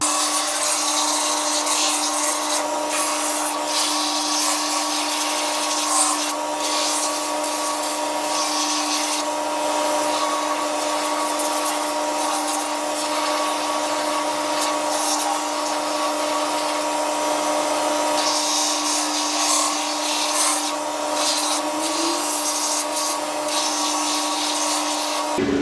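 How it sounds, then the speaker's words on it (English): A buffing machine grinds steadily against an old walking boot sole and a new sole unit, a loud, continuous high whine with a constant hum, close and unbroken throughout. "next I'm going to buff all the old sole and the new unit and then glue them"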